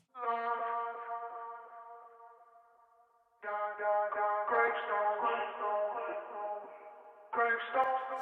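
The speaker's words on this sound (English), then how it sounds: "Let me just solo the delay here for you." A soloed vocal delay from a rap song mix, sung-style harmonic repeats ringing out and fading, then switching rhythm to slower echo spacing in the later phrases, heard alone without any accompaniment.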